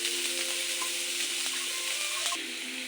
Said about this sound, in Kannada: ಆನಿಯನ್ ಇವಾಗ ಫ್ರೈ ಆಗಿದೆ.